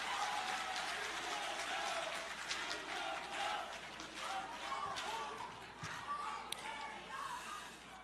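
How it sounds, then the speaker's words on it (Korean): Audience applause at a political rally, steady dense clapping from a large crowd filling a hall, sustained throughout at moderate volume with a few sharper claps standing out. "여기 우리 경남의 의원님들께 모두 박수를 쳐주십시오."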